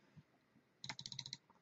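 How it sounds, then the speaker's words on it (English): Brief burst of computer keyboard typing during CAD design work on a grip project, a quick run of about ten close, crisp key clicks in a quiet room. "My keyboard is stuck sometimes."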